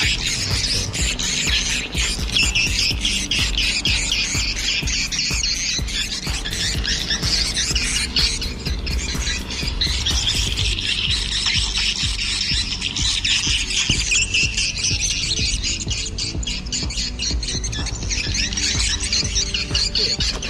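Swiftlet call played loudly through a phone app used to check a site for a swiftlet house, a dense continuous stream of high chirping twitters with no pauses and no talk over it.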